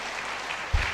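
Brief burst of audience clapping at a women in construction conference, a steady patter with one louder thump near its close.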